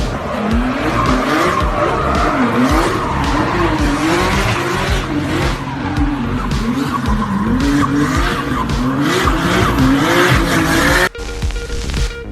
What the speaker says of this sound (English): This is a gnarly drift around the entire track.